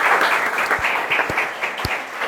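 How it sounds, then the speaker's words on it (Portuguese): Audience applause at a Spiritist centre talk in Matão, São Paulo, a dense, loud, continuous patter of many hands clapping throughout, with a few sharper claps standing out. "Salve de palmas para Marina."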